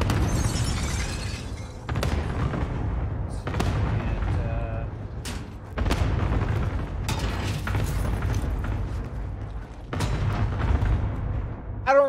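Airstrike explosions rumble through a first-person shooter game: a series of heavy booms and shattering blasts, roughly every couple of seconds, loud and close over a constant low drone, with brief game voices mixed in.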